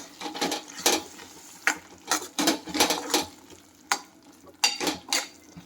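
A chickpea curry with coriander and green garlic is stirred in a pan: repeated scraping strokes in an uneven rhythm, close and moderately loud, over a faint simmer.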